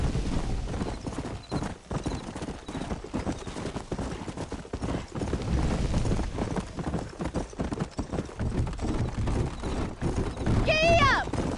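A horse in the Red Dead Redemption video game gallops with rapid, continuous clip-clop hooves; a short whinny comes near the end, and a voice speaks in the background.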